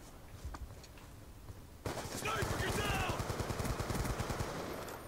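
Gunfire from a Fast Mag–equipped weapon in Black Ops 2: after a quiet start, a loud stretch of steady automatic fire continues for about three seconds, with a player speaking over it.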